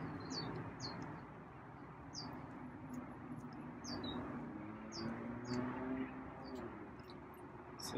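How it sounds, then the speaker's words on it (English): Small birds chirp outdoors in short, repeated high tweets that come and go at moderate distance over a continuous low background hum. "hear a bird chirping right now."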